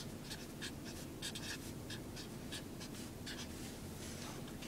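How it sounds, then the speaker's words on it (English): A pen or marker writing out the quadratic formula, quick scratchy strokes in short bursts repeating steadily, close and fairly quiet over faint background noise. "here, let me write it out."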